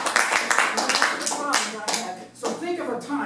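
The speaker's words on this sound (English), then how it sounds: "Let's give her a round of applause" Hand clapping from an audience at a live participation show, a sharp patter of claps in the first half that thins out as someone talks loudly over it near the microphone.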